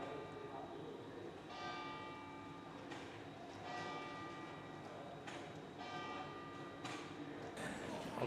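Church bells in Venice ring out in a series of clear, resonant strikes, overlapping and echoing at moderate distance over faint background murmur.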